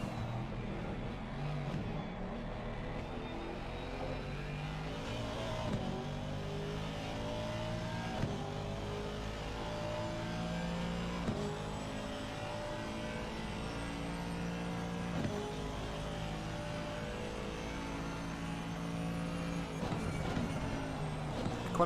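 A Mercedes GT race car's engine in Assetto Corsa Competizione at Suzuka revs up and down through repeated gear changes, a steady loud drone rising in pitch and dropping at each shift over a long stretch.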